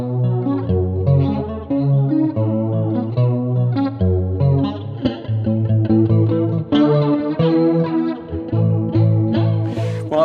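Electric guitar chords and notes through an analog flanger pedal, with a sweeping, shimmering modulation effect, playing continuously with a rich, wide tone.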